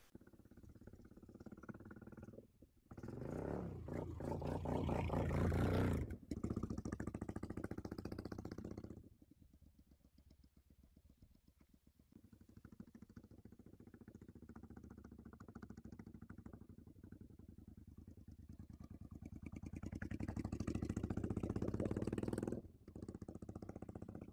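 A used motorcycle engine running close by, steady idle rumble with a louder revving stretch early on and another later, briefly cutting out between sections.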